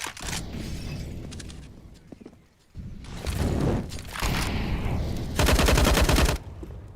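Bursts of rapid gunfire from Tec-9 pistols and a Desert Eagle ring out in a competitive video game match, loud clustered volleys separated by brief lulls, with a final sustained barrage near the end.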